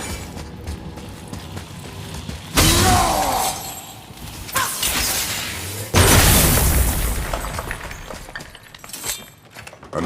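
Loud crashing shatters from an axe breaking objects in God of War, two sharp bursts with crumbling debris standing out over a low game ambience.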